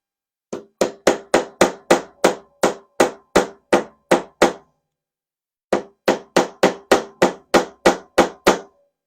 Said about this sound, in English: Little hammers, some broken nails.